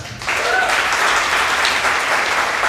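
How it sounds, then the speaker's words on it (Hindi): Audience applause at a Hindi-language Christian Bible teaching session breaks out after a brief quiet start, then holds as a steady, dense burst of clapping from a sizable crowd. "एक बार ताली हो जाए"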